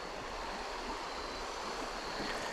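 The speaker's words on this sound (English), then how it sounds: "This is a natural creek. It's flowing water." Flowing water of a natural creek, a steady broadband rush with no breaks, heard up close and moderately loud, with a little wind noise on the microphone and no talking.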